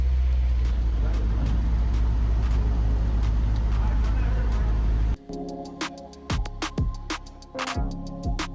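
A Honda S2000 engine, just topped up with coolant, runs with a loud steady low rumble that cuts off abruptly partway through, followed by quieter clicks and knocks.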